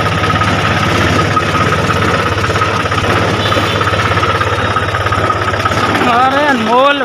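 A Mahindra 265 tractor engine chugs steadily in first gear with a constant low drone and vibration, running loud and close throughout, with faint voices mixed in near the end.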